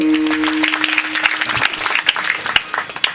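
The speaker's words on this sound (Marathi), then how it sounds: "गावासाठी एकदा टाळ्या वाजवा" A village gathering at a devotional talk claps together, a moderately loud wash of applause with a few sharper individual claps standing out toward the end and a low steady hum underneath.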